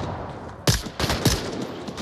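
Gunfire rings out in the VR shooter game Onward as a few sharp, loud shots spaced apart over a steady background hum, with no talk.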